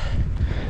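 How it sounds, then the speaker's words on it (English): Strong wind on an exposed hilltop at an abandoned Air Force radar base in rural Vermont, a loud, low, continuous rumble buffeting the microphone throughout, with no talking. "it's insanely windy"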